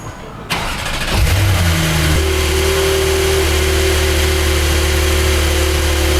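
A starter briefly cranks, then a Porsche 911 Turbo S engine fires up with a rising roar and settles into a loud, steady idle.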